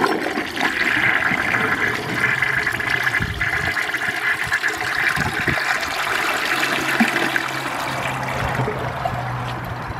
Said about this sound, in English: here's the second flush of the rag